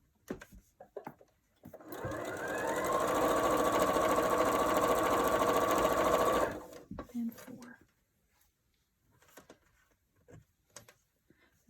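A sewing machine runs one steady, loud stitching burst of about four and a half seconds while piecing a black-and-white kaleidoscope quilt block. Brief handling clicks and rustles come before and after it.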